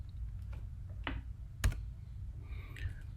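Someone types a value on a computer keyboard. The taps come as a few sparse, faint clicks with pauses between them, and the room is quiet.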